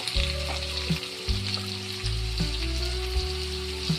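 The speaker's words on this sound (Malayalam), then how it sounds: "ഇനി നമുക്ക് അരിഞ്ഞ് വെച്ചേക്കുന്ന നാരങ്ങ അതിലേക്ക് ഇട്ട് കൊടുക്കാം." Chopped lemon for curry lemon pickle sizzles hard as it hits hot oil in a pan, a steady close frying hiss with a few soft stirring clinks and no talk.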